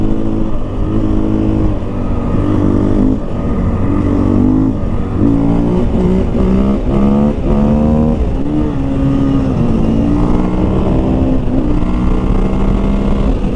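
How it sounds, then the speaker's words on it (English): A 2023 KTM 500 EXC-F dirt bike engine roars up close through repeated throttle blips and rising revs as the rider attempts a wheelie, loud and continuous throughout. "See if I can pop a wheelie here."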